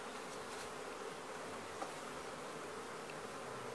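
A dense, steady buzzing of many honeybees during transfer of a swarm into a standard hive, close and constant, with no voices.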